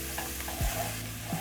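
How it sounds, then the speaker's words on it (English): Three cloves of garlic fry in a pan for a Kenyan goat wet fry, giving a close, steady sizzle broken by a few quick scrapes of a stirring spoon. "Then I'm going to cook this until fragrant, or until the garlic is cooked through."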